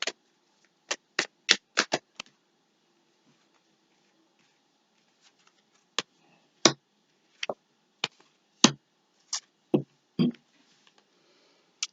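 Tarot cards being shuffled and pulled: sharp, close card slaps and flicks in irregular bursts, separated by a long quiet pause.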